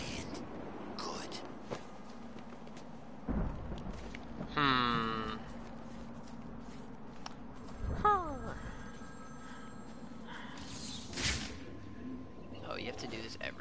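A telephone ringing in the video game Batman Arkham City, a couple of short electronic rings amid game ambience and sound effects, fairly faint with a voice-like bleat in between.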